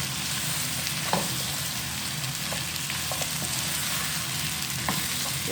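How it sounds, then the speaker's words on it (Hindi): Vegetables for chicken shashlik sautéing over a high flame, a continuous dense sizzle broken by occasional soft stirring knocks, with no talk. "ये हम इसमें डाल देंगे और अब इसको हम हाई फ्लेम पे सौते करेंगे"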